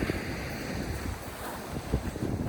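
Ocean surf washes steadily onto a Florida beach, a continuous roar of breaking waves mixed with gusty wind buffeting the microphone, with no voices.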